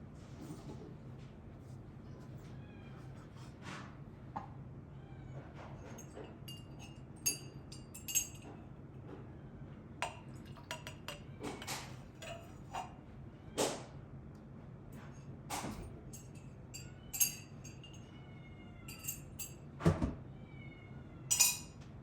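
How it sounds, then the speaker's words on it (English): A cat meows faintly now and then in a quiet room, mixed with light clinks of cups and dishes while a cappuccino is made on a Breville Dual Boiler BES920 espresso machine. "Sorry, that's just my cat"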